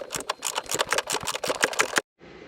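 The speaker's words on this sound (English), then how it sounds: "there's a couple 10mm acorn nuts down in there. So we're going to go ahead and we're going to loosen both of those" Rapid ratcheting clicks from a hand tool loosening 10mm acorn nuts on a 2022+ Kawasaki Ultra 310 jet ski, a dense close rattle of ticks for two seconds, then abrupt silence and a faint steady hiss.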